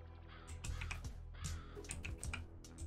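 A crow caws in the video game Yaga, several short rasping calls mixed with quick clicking, keyboard-like taps, all fairly quiet and without talk.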